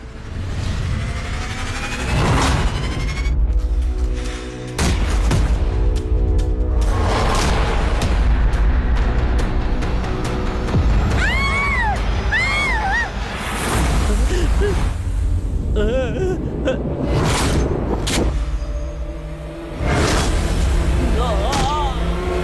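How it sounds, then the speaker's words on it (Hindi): Gunfire and explosive booms in a Hollywood action movie, heavy bursts and blasts layered with engine noise and whooshes, loud and continuous with brief lulls, while voices speak over the action. "ये क्या फिर से गोलियां चली?"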